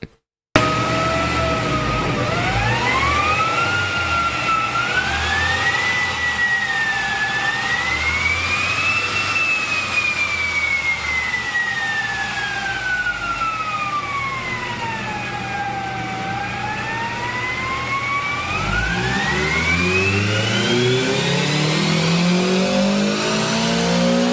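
A tuned stock car engine runs at wide open throttle on a dyno, a loud sustained roar whose whining pitch sweeps up and down through the run, close and continuous with no talk.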